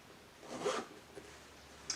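A single short zipper pull on a zip pocket inside a Chanel bag, a quick close rasp followed by a couple of faint clicks in a quiet room.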